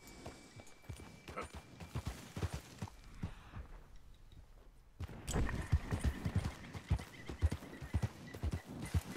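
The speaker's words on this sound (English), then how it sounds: "Come on, horse." A horse ridden in Red Dead Redemption 2 gives steady clip-clop hoofbeats with a whinny. The hooves quieten briefly midway, then return louder and closer.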